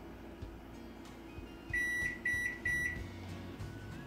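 An Amazon Basics microwave with Alexa built in beeps while its number 2 button is held, three short electronic tones in a row, fairly quiet, over a low room hum.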